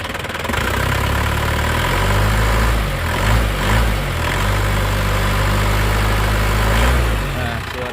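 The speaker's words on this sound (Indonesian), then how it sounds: "Ini suara mesinnya ini." A 2003 Isuzu Panther with a naturally aspirated, non-turbo diesel engine idles close by, a steady low throbbing rumble throughout with a brief voice over it midway.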